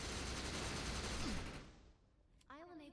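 Rapid gunfire in the Defiance video game with the Overcharge power active, a dense loud burst of shots lasting over a second before fading out, followed by a voice speaking.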